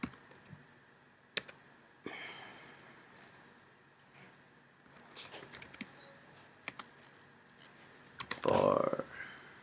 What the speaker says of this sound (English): if you type google.com and just type chocolate